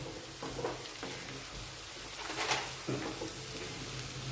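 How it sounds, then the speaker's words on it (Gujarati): Green garlic cooking with onion in a pan over medium heat, a steady soft sizzle with occasional stirring clinks and scrapes, and faint bird cooing in the background. "હવે લસણને પણ આપણે ચડવા દેવાનું છે આ રીતે ડુંગળી સાથે"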